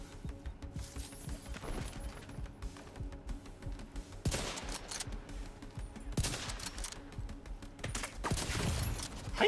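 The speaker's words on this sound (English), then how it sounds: "How you just shoot me through there?" Rapid gunfire from an online shooter game, a steady crackle of shots with several sharper bursts standing out over a continuous noisy background; fairly faint overall and no speech heard.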